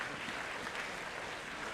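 A room of students at an induction programme claps together, a faint, distant wash of applause lasting under two seconds.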